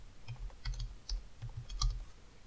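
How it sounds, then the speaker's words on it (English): Computer keyboard typing as a company name is entered into a stock trading website search box; a quiet, uneven run of light key clicks, close by, with no speech. "Here I can just start typing a company name"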